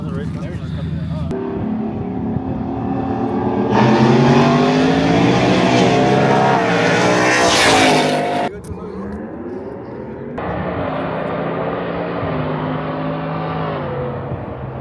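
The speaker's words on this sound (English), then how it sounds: "This fool Benito about to race Angel, bro" Drag race cars accelerate hard down a quarter-mile strip in Mexico, a loud, close engine roar climbing through gear changes, then a second car's fainter pull, with people talking over it.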